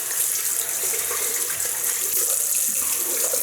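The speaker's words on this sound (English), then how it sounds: "Just adding a bit of water," Tap water runs steadily from a faucet into a basin, a bright, even splashing hiss close by while a vegan forest-scented shaving soap is prepared, with no talking over it.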